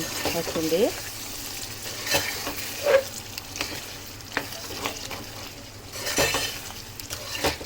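Soft frying sizzle of tomatoes in a chicken curry, with occasional clinks of a spoon stirring in the pot; a brief bit of voice early on.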